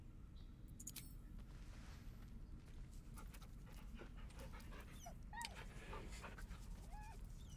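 A dog in the video game Baldur's Gate 3 pants steadily and softly, with faint whimpers and small game sound effects over a low constant rumble, no voices.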